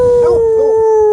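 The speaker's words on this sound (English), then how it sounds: "Do a howl, Major." A dog howls on command, one loud, close, sustained tonal howl with a slight wavering pitch that lasts about a second.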